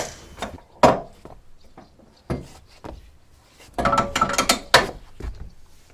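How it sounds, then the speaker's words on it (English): A winch on the Norfolk wherry Maud is opened to lower the mast, giving a few close mechanical clunks and ratcheting clicks with a woody creak, separated by short quiet gaps. "We've then got to open the winch."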